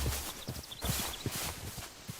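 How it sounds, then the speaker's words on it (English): Horse hooves clip-clopping in a quick steady rhythm in modded Minecraft, with a few faint chimes above a constant background wash. "Now I'm gonna kill some horses."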